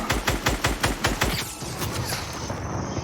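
Rapid automatic gunfire in a French-language online shooter match, a burst of about ten evenly spaced shots in the first second and a half, then a dense fading rattle of distant fire.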